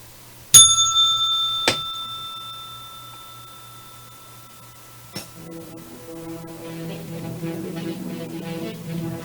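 A bright bell rings twice in quick succession, ringing out clearly, followed by a softer tap and a low, quiet tonal hum as a sign-off cue for a daily broadcast.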